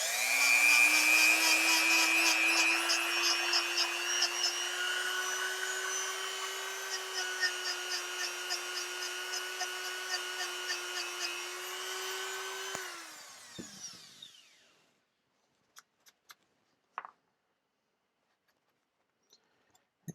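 A power driver whirs steadily for about thirteen seconds as screws are run into a vintage Worth #5 hand plane, winding down into a few light clicks and taps near the end.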